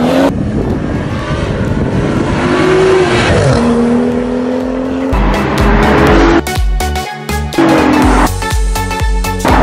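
A BMW i8 launches in a drag race against another car, engines roaring loudly with tire squeal and rising revs, followed by rapid shifting bursts, close and without talk.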